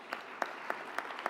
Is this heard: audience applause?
yes